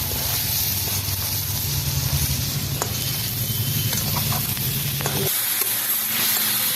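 Pointed gourd tipped into hot oil spiced with chilli, cumin and pepper powders, frying with a loud, steady sizzle and scraping stirs; the sizzle drops abruptly near the end and then resumes more softly.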